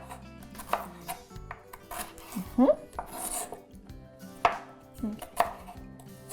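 Knife chopping celery into thin slices on a cutting board, a run of crisp irregular chops and taps up close, with a brief spoken word near the start.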